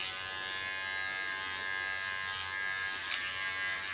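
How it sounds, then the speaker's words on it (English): An electric hair clipper buzzes steadily against a comb, cutting along the neckline in a clipper-over-comb technique, with a bright close snip or click near the end and no talking. "comb on the line of cutting with clipper over comb technique"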